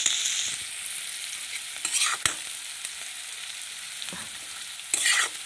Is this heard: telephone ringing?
no